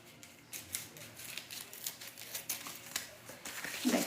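Scissors snip through baking paper to cut the base for a cake mould, a series of sharp close clicks and crisp cuts at an uneven rhythm with no talk.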